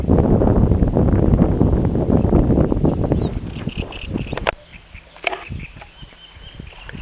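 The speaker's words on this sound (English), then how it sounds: "And I know it's windy," Wind gusts buffet the microphone during a walk outdoors, a loud rumbling roar that fades partway through, leaving softer rustling and scattered knocks.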